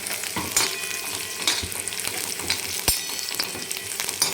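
Onion fries in hot oil in a pan, a busy crackling sizzle broken by repeated scraping stirs and a few sharp knocks of a spoon.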